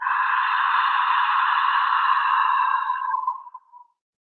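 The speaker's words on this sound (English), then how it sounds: "it's a gentle clasping of the back of the throat. Makes a very soft hissing noise." Ujjayi breathing in a yoga session: a steady, soft hissing in-breath drawn through a gently constricted throat, close and alone for about three and a half seconds before tapering off.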